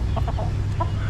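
Chicken clucking in a few short, close bursts over a steady low farmyard hum, with no talking.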